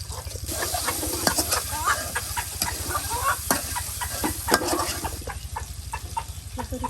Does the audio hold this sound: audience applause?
no